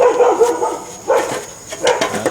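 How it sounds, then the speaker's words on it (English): A pet dog barks nearby during car repair work on an oxygen sensor, giving three sharp, loud barks in quick succession. "There's my dog, Cody"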